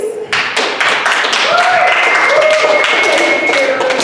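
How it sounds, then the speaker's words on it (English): Audience applause at a small stand-up comedy showcase, steady dense clapping throughout with whoops and voices mixed in, fairly close and loud. "That applause almost makes up for the lack of people here"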